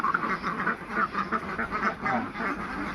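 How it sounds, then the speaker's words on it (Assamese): A flock of domestic ducks quack repeatedly at close range, overlapping nasal calls in a busy, continuous chorus with no talking. "হাঁহবিলাক ওলাই আছে।"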